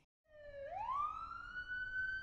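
A police car siren sounds alone, a single tone that dips and then sweeps upward into a rising wail, held steady and fairly close.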